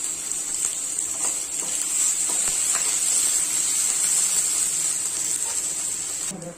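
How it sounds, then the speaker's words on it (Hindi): Chopped onion fries in a pan for a Chhattisgarh-style khaskhas and potato dish, giving a steady, close, even hiss of sizzling oil that continues without a break and with no voices. "अब हमारा डाल देंगे हम कटा हुआ प्याज। इसे लाल होने तक भून लेंगे हम।"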